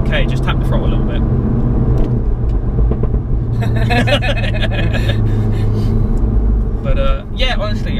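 A Golf GTI Clubsport S engine blips under throttle from inside the car, a steady mid-low drone with small rises in revs. People talk over the engine much of the time.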